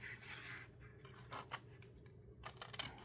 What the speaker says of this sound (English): So Now that I have space, I am just going to cut.